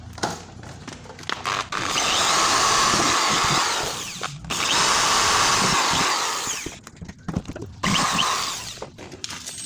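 A power drill bores holes in the side of a plant pot for a potted grape plant. It sounds as two long, loud, whining runs with short tool clatter and handling noise between them.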